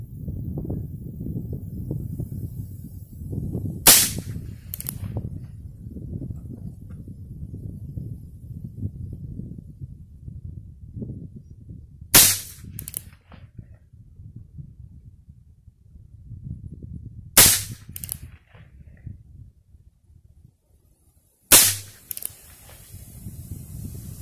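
Four sharp, loud gunshots from a Heritage Rough Rider revolver crack out at spaced intervals at an outdoor target, separated by quieter low rumbling and handling noise.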